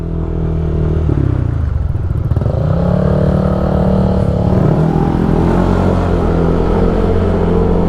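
A motorcycle rides along a road on the way to Laguna, its engine droning steadily and near, shifting in pitch as it revs and settles under continuous road noise.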